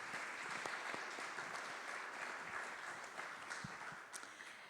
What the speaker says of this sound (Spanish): un fuerte aplauso para Fernando